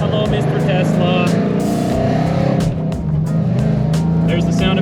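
A hot rod engine drones steadily while driving on the Hot Rod Power Tour 2023, a loud continuous rumble with a brief dip, heard under people talking close by.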